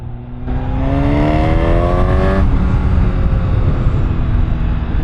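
A 2025 Honda CB1000 Hornet SP in sport mode revs hard, its engine note climbing in pitch as it accelerates, then holding a loud, steady roar with wind rush.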